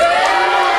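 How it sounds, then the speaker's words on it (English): A wrestling crowd roars and cheers for Big Daddy P, a dense, loud wall of massed voices with whoops and shouts, sustained without a break. "Listen to that. Listen, the crowd loves him"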